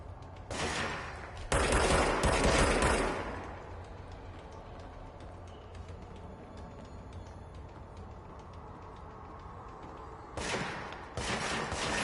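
Automatic gunfire in the action game Control, two loud sustained bursts near the start, a long quieter stretch of ambient noise, then two more rapid bursts near the end.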